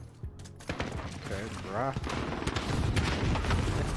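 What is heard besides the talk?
sentry turret firing, from the video game Call of Duty: Modern Warfare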